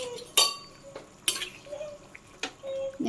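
A spoon knocks and scrapes against a pot while fish and karkal are stirred into a curry, sharp metallic clinks arriving every second or so over a faint simmer.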